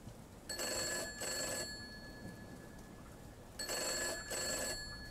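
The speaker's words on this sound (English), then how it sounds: "Phone's ringing." An old telephone rings in the Gray Dawn video game: two clear bursts of double rings separated by a pause, over a faint hiss like rain.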